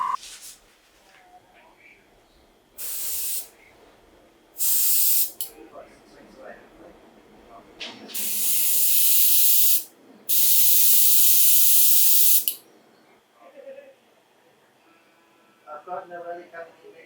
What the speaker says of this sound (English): if I pressing them down and also holding the trigger backwards, it will spray the paints or the primers